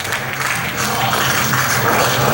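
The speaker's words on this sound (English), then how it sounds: "He's trying to get that crowd behind him. He feeds off the energy of this crowd." Wrestling arena crowd: a broad, continuous wash of cheering and applause that swells slightly, loud and dense with no single voice standing out.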